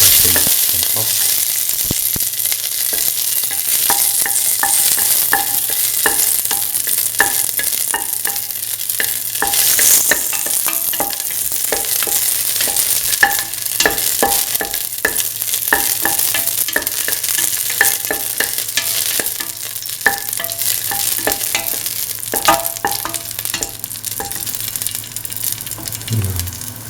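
Dried dates cooking in a pan with salt, a steady broadband sizzle running throughout with frequent scraping stir strokes, close and fairly loud, no voices.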